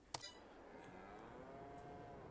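Cattle lowing in the farming game Farming Simulator 22, a sharp click at the start followed by a faint, drawn-out moo over a steady low hum of background ambience.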